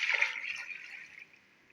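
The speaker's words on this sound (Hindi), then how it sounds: "इसके अंदर मैंने 1 लीटर पानी का डाला है, और भी डालना है पानी" Water is poured into a pressure cooker while making duck pulao, a brief close splashing rush that fades within about a second and a half.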